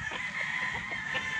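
Gamefowl chickens cluck and crow at a game farm, a dense, continuous flock chatter heard close and fairly loud, with no talk over it.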